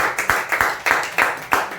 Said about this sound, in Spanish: Denle un fuerte aplauso de Dios.